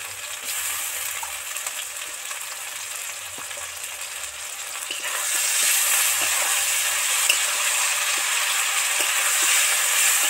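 Softened onion, potato and tomato sizzle steadily in a pan, and the frying grows louder and brighter once ginger-garlic paste is added, a close, constant hiss with faint stirring.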